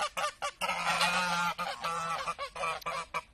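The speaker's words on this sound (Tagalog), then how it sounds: "Ganso ti Israel." A goose in Israel honks loudly and repeatedly nearby, a run of harsh, rapid calls with short gaps between them and no talking.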